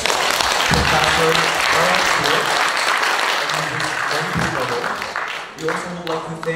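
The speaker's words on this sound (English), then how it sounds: "please give another round of applause for our speakers" Sustained audience applause at an academic conference honoring the speakers, a dense continuous wash of clapping at steady loudness throughout, easing slightly near the end with a voice faintly audible underneath.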